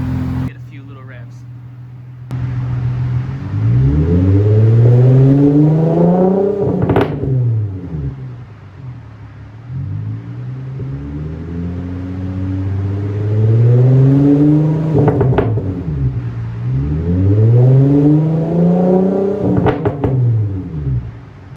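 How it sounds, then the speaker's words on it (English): A bagged Infiniti G35 revs up three times with rising, swooping engine notes, loud and close. The engine falls back to a steady idle between the revs, with a short quiet stretch at the very start. "Get a few little revs."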